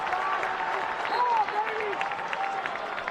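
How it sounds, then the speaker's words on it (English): Crowd at a high school state wrestling championship final in Boardwalk Hall, a broad steady roar of cheering and clapping filling the arena, with a commentator talking over it. "You can hear the crowd."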